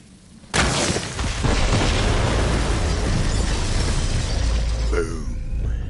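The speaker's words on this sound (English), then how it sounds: "The explosion echoed through the forest" Set bombs detonate in the video game Borderlands 3 in a forest: one sudden loud blast, then a long roaring, crackling rumble that sustains and slowly fades.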